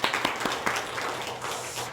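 A church congregation applauds a young member during a Korean worship service, a brief, moderately quiet patter of many hands lasting about two seconds.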